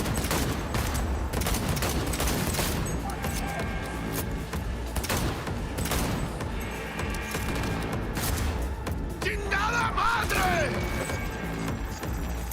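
Rapid bursts of gunfire from the video game Cyberpunk 2077, dense volleys and crashes firing continuously throughout, with voices talking over the shooting.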